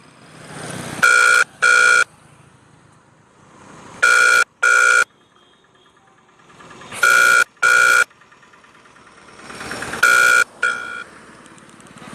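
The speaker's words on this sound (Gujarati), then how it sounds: "આપણે તેમને ફોન કરીએ છીએ." A telephone ringback tone sounds while a call is placed, repeating in loud paired bursts roughly every three seconds with quiet gaps between.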